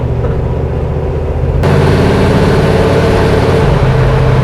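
A loud, deep engine rumble from a custom muscle car's exhaust, idling with a throbbing low-pitched burble that grows louder and fuller partway through, very close.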